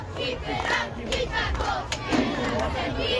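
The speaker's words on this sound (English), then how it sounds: "Cheerleader's doing a great job getting the crowd into it." Cheerleaders chant rhythmically at a 12-and-under youth playoff football game, their voices rising over a noisy outdoor crowd, with scattered shouts and cheering mixed in throughout.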